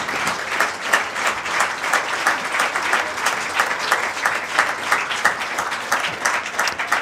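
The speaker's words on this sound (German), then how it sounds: "das Publikum hier in München in der Dressurarena feiern" An audience in the Munich dressage arena applauds steadily, with dense, even clapping from a large crowd that holds at a constant level throughout and no talking over it.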